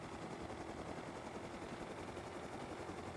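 A helicopter in a video game gives a dense, steady rotor whir and engine drone, loud and close, running without pause and with no talking.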